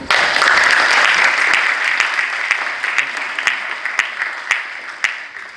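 An audience applauds a scholarship recipient at a university anniversary ceremony, clapping loud and full at first, then thinning into scattered, separate claps as it fades.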